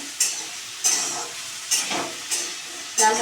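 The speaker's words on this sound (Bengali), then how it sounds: "লাল লাল করে তেলে আলুটা ভাজা হয়ে রাখুন।" Potatoes frying in hot oil in a pan for aloo posto give a steady close sizzle, broken by several sharp, bright bursts from stirring and turning.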